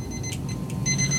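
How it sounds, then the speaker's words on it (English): A kitchen timer going off during gluten-free bread baking, a series of high electronic beeps repeating in short bursts and then holding steadier, over a faint low room hum. "Turn off your timer."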